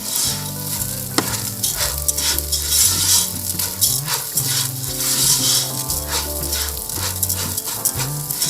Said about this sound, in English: We're gonna stir it around, make sure the butter coats all of the rice.